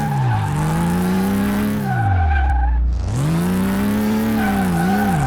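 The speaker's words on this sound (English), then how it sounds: "Oh, we just wrecked our Porsche." Porsche 911 S Turbo 964 in Car Mechanic Simulator 2018 skidding with a loud sustained tire squeal over a revving engine whose pitch falls and climbs back, ending in a crash, close and continuous.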